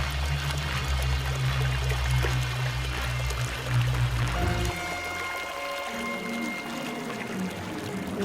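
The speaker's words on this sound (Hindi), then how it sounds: "गधा नदी में इस बार जानबूझकर गिर गया।" A donkey in an animated story deliberately falls into a river while carrying sacks of salt. Loud, steady rushing and pouring water fills the scene, then shifts abruptly to a thinner, trickling flow partway through, with no speech.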